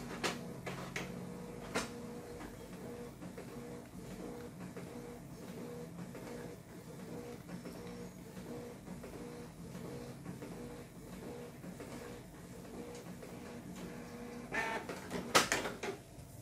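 A Canon printer prints the second side of a double-sided Microsoft Word document, giving a steady mechanical whir with rhythmic clicking and clacking that grows louder with sharper knocks near the end.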